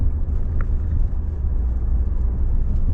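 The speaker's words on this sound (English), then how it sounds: "You can hear the engine now." A Kia Sportage engine drones as a low, steady rumble from inside the moving car, with constant road noise beneath it and no talking.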